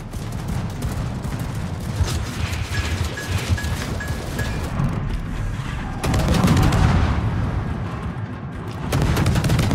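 Anti-aircraft guns fire from a naval cruiser in a warship video game. Loud, dense rapid bursts rumble continuously over an engine-like drone and grow heavier in the second half, with a short electronic tone partway through.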